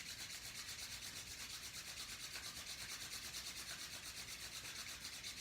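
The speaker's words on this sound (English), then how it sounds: "This time we're going to rub our hands together." Palms rub briskly together in a quiet seated yoga session, a soft, steady, rhythmic swishing friction close to the ear, continuous throughout with no talk.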